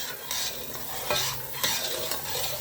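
A spoon stirs and scrapes a pan of sizzling syrup and frying mixture for Tirupati laddu, a constant close hiss with a few sharper scrapes, no voices.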